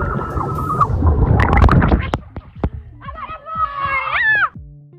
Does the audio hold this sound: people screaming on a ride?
yes